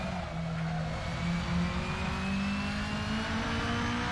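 A Mini race car being driven at the Nürburgring, its engine droning steadily and close with a slowly rising pitch as it accelerates, heard alone without talk.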